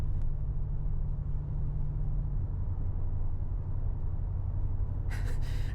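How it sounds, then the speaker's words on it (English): A Mercedes-AMG G63 with 586 hp, heard from inside the cabin while driving, holds a steady, loud, deep engine rumble throughout, with a brief burst of brighter noise near the end. "the sound in this car is literally amazing"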